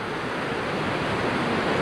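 Sea waves wash steadily onto a beach at Matinhos and Caiobá, a continuous broad rushing roar with wind buffeting, loud and even throughout.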